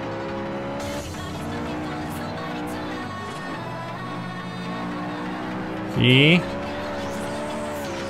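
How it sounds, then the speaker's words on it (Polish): A Honda S2000 drifting while racing in Forza Horizon: a sustained, revving engine drone with shifting pitch, and a short, sharper burst near the end. A voice briefly speaks. "Trochę mnie tam zarzucało. Widzieliście, że już samochód wchodził w drift."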